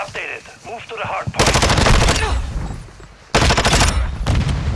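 Automatic weapons fire in Call of Duty comes in two loud, dense bursts of rapid shots. A quieter gap with faint game sounds separates them.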